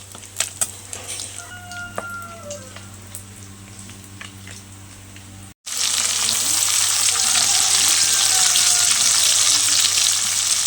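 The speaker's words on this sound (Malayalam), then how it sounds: "ഇനി ചിക്കൻ കോരി ഇട്ടിട്ട് വേണം ആ എണ്ണയിൽ തന്നെ ഇത് വഴറ്റിയെടുക്കാൻ വേണ്ടിയിട്ട്." Onions are sautéed in the oil left from frying chicken for a Malabar chicken biryani. A quieter sizzle with utensil clicks gives way after a brief cut to a loud, dense, close frying hiss that continues steadily.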